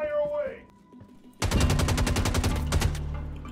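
Rapid bursts of automatic gunfire in the Star Citizen video game, loud and close, with a steady rattling rhythm of repeated shots after a brief quieter stretch with faint voice sounds.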